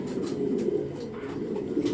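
Domestic pigeons, a fine-feathered show breed, coo in a low, continuous rolling murmur, close and steady throughout with no talking.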